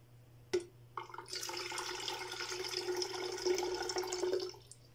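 Water is poured steadily into an electric kettle for about four seconds, a close, continuous splashing stream that starts after a brief knock and fills the rest of the clip.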